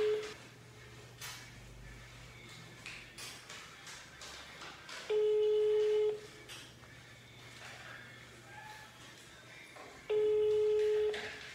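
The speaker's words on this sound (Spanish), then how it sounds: "Es como que suena y se cae la llamada." Telephone call ringing then dropping, with two long steady electronic ring tones, each about a second, separated by a quiet gap, over a low hum and faint background sounds.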